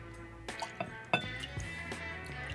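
High West A Midwinter Night's Dram whiskey is poured into a glass in a quiet room, with soft liquid trickles and drips, a few light glass clinks and taps along the way, and no talking.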